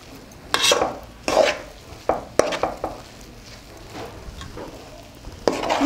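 Chicken and oats biryani is stirred in a pot over a low flame, with several distinct scraping strokes and clinks of a spoon against metal over a faint, steady sizzle.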